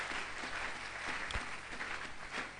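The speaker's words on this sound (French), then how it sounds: "Acclamons très fort le Seigneur." A church congregation applauding the Lord during a service, a continuous wash of many hands clapping at moderate distance, fairly faint and sustained without a break.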